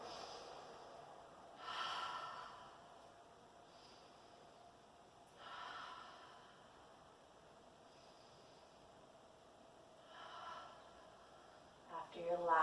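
Slow, deep breaths during a yoga pose in a morning hatha flow class, three soft airy inhale-exhale swells spaced several seconds apart over quiet room tone, ending with a brief rustle.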